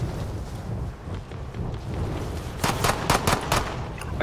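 Distant gunfire in the battle royale game Call of Duty Warzone, a muffled rumble of ambient noise that gives way to a short cluster of sharp shots near the end, moderately loud.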